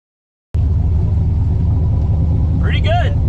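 A Nissan S13 convertible fitted with a 1.5JZ engine starts up abruptly and settles into a loud, steady, close rumbling idle, with a brief voice near the end.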